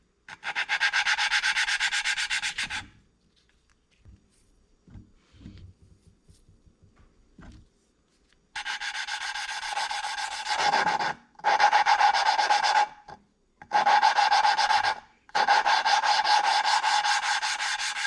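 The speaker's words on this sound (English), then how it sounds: "We're not putting a lot of pressure on this, we're just letting the lapping compound do the work." Steady gritty rubbing of a new valve being lapped with abrasive compound into a 2.4 Ecotec cylinder head, light pressure, in long strokes broken by brief pauses, close and loud, with no voices.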